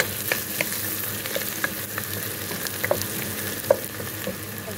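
Onions fry in a pan with a steady sizzle, dotted with sharp pops and a few stirring clicks, close and unbroken by any talk.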